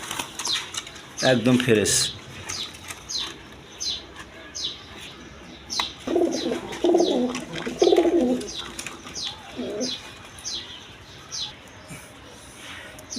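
A pair of Gorra pigeons coo in low, rolling bursts at a pigeon seller's, with fluttering wings and scattered chirps around them; someone speaks briefly early on.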